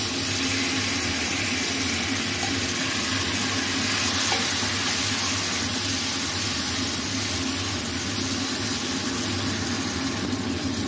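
Fried ridge gourd pieces go into a pan of sizzling sautéed masala for a chital fish curry, giving a steady, loud hiss and crackle of frying with faint stirring throughout.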